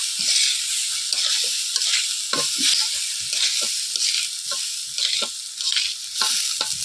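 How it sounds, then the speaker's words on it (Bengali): Rice for jeera rice being stirred and mixed in a hot pan, a steady sizzle with repeated scraping strokes of the spatula, close and continuous, no voices. "সঙ্গে ভালোভাবে চালটা ভালোভাবে মিশিয়ে নেবো"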